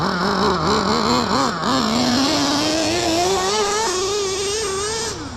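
The nitro engine of an XTM Mammoth ST RC truck screams loudly and continuously, its high buzzing pitch wavering with throttle changes, then gradually climbing as it revs harder.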